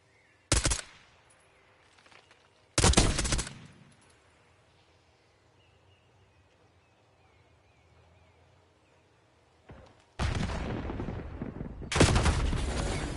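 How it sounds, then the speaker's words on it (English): Call of Duty gunfire: four loud, sharp bursts of automatic fire, two short volleys early, then a sustained, denser barrage toward the end, with quiet game ambience between. "Man, I shoot him in the head."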